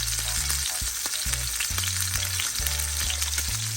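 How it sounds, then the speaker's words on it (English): Steak sears in a hot pan with a loud, dense, continuous sizzle, while a low rhythmic hum rises and falls in steps underneath. "we're going to cook our steak for about 3 minutes per side"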